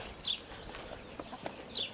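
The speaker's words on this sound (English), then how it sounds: "Here more hens." Hens on a homestead give a couple of faint, brief clucks and calls that stand apart from each other over quiet outdoor background.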